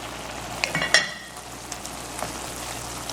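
Trinidad-style saltfish cooks down in a pan with tomatoes, shado beni, garlic and pimento. It makes a faint, quiet sizzle broken by a few sharp clinks near the start.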